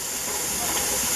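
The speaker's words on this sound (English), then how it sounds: "stream of steam. Yeah, steam. It's steady." A pressure canner, used for canning corn on the cob, releases a steady, continuous hiss of steam, close and loud with no breaks; no voices.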